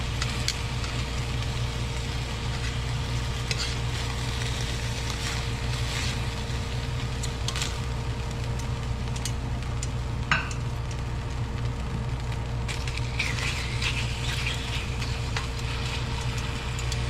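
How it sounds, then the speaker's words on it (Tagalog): Beef slices for Filipino bistek sizzle steadily in a pan, a continuous close frying hiss with a low hum beneath and an occasional clink. "hintayin na lamang po natin munang maiprito ko po ito"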